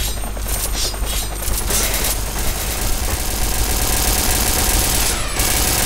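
Video game gunfire rattling steadily through a loud, continuous wash of game noise, with a few sharper bursts standing out near the start and end.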